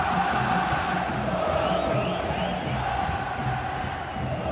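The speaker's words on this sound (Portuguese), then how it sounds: "Pega a torcida do Vasco" Vasco fans in a packed stadium at a Vasco versus Madureira football match, a dense, continuous roar of crowd noise and chanting heard from within the stands.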